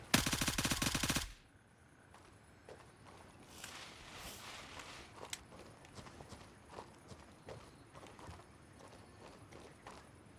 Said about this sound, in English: Oh, I'm hearing footsteps.